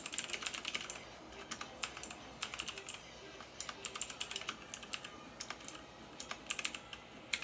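Clicky typing on a Motospeed CK62 mechanical keyboard with Outemu Blue switches, sharp keystrokes coming in uneven bursts and short pauses, close and fairly quiet, with no talking.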